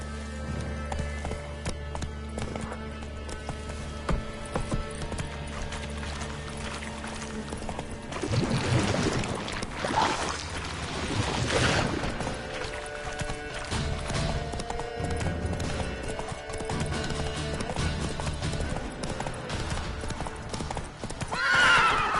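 Hoofbeats of a galloping horse in a video game, a steady clip-clop rhythm with a neigh or whinny breaking through, loud and continuous throughout.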